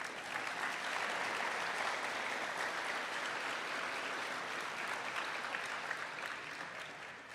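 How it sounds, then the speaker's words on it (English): Graduation audience at a secondary school ceremony applauding and cheering an award recipient, a dense, steady wash of clapping from a large crowd that holds for several seconds and tapers slightly at the end. "you can cheer in a minute"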